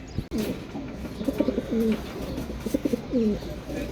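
Racing pigeons in a cage giving repeated soft, throaty coos in short rhythmic phrases, close and clear over a faint background hum.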